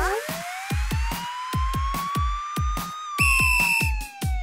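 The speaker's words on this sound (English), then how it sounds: "Police car." A toy-style police car siren wails in a children's nursery rhyme song, rising steadily and then switching to a higher tone, alone and loud over a rhythmic, thumping beat.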